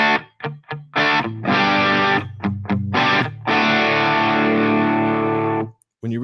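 Lower-gain tone from a PRS dual-humbucker electric guitar on the bridge pickup through a Helix amp: loud, lightly overdriven strummed chords, first short choppy stabs, then a long sustained ringing chord before it stops.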